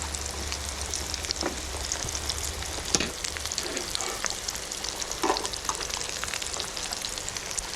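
Potato wedges deep-frying in oil at an outdoor catch-and-cook of bluegill, a dense, steady crackling sizzle with occasional louder pops, close and continuous, no talking.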